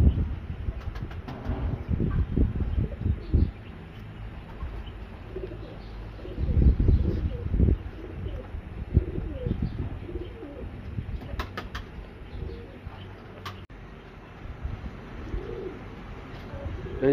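Chapra pigeons coo in low, soft, throaty bursts close by, with occasional wing flutters and light rustling in between.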